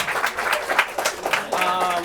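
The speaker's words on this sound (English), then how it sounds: "Let's give one last round of applause for our speaker tonight" An audience claps in a short, lively burst, the applause rising and falling as a voice starts speaking over its tail end.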